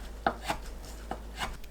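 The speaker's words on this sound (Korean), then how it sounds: "표고버섯을 1cm 크기로 썰어주세요." A knife chops soaked shiitake mushrooms into 1 cm pieces on a cutting board, giving four separate crisp knocks spaced irregularly in an otherwise quiet kitchen.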